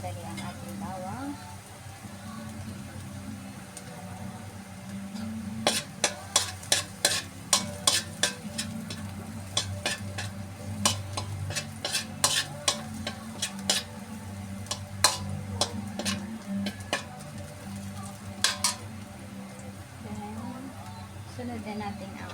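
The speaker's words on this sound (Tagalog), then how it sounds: "gisa na natin ang ating bawang" Garlic sautéing in a pan as pork menudo is cooked, a steady sizzle with a run of sharp clicks from a utensil stirring and tapping the pan, close by, while a person talks over it.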